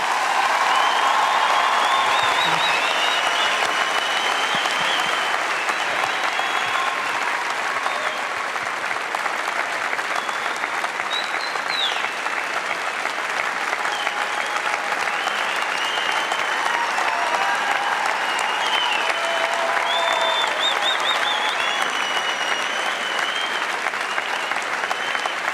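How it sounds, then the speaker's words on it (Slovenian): Sustained, loud audience applause in a large hall welcoming motivational speaker Nick Vujicic onto the stage, a dense steady roar of clapping with faint cheers that continues unbroken for the whole stretch. "hvala vsem vam za ta prisrčen aplavz"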